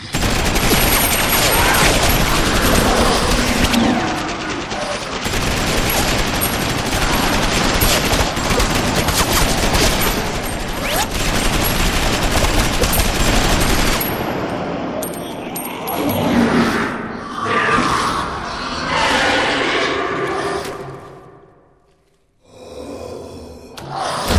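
Gunfire in an Ultraman movie: dense bursts of rapid shots in a loud, sustained volley, then breaking into scattered blasts and noise before a brief drop near the end.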